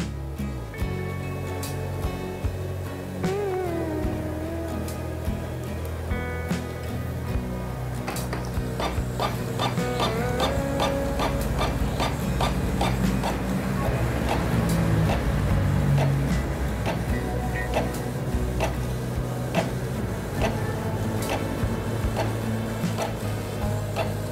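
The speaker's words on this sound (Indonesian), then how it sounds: "langsung saja kita print dengan kualitas standar dokumen" An Epson L3210 inkjet printer prints a document at standard quality, giving a steady mechanical whir with rhythmic ticking and clicking of the print head moving back and forth, close and continuous for about twenty seconds.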